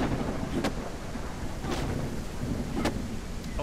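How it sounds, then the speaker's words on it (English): A video game thunderstorm in No One Survived roars as a dense, loud wash of rain and wind, with several sharp crackling thunder strikes punctuating the constant downpour. "this thunderstorm is crazy loud"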